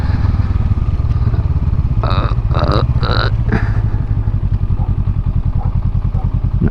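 A motorcycle engine runs close by on a cold day, with a steady low, rapidly pulsing throb and a short cluster of sharper, higher bursts partway through; no one speaks.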